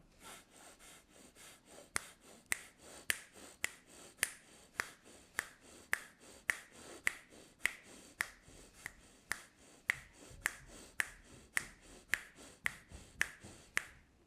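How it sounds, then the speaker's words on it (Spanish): A person makes sharp tongue clicks against the hard palate during a breathing exercise for nasal congestion, about two dozen crisp pops at a steady roughly half-second pace, with soft breathing between them. "de dar chasquidos, de pegar la lengua contra el paladar alto y de respirar sincrónicamente"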